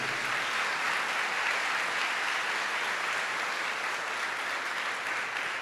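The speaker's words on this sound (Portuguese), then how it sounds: "Você pode aplaudir bem forte a palavra de Deus?" A church congregation gives sustained, loud applause at a Sunday service, a dense steady wash of many hands clapping together without a break, heard on its own with no voices over it.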